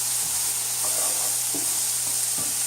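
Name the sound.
food sautéing in a pan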